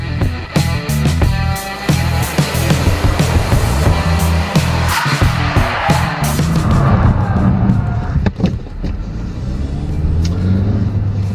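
A 2014 Hyundai Elantra Coupe accelerates hard on a 0-60 mph run, engine revving and rising through the gears in a loud, close, continuous roar with road rumble, then easing off near the end.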